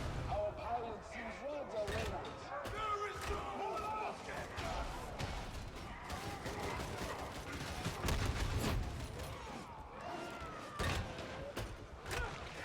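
An Ogryn Ripper gun fires in Warhammer 40K: Darktide, its rapid booming shots and clattering impacts packed into dense bursts amid a chaotic fight, with a voice talking over the gunfire.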